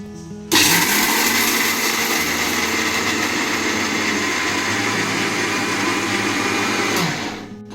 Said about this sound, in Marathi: आपण इथे शेंगदाण्याचा बारीक कूट करून घेऊया